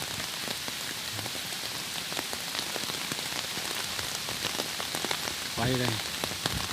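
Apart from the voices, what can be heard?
heavy rain during typhoon number 9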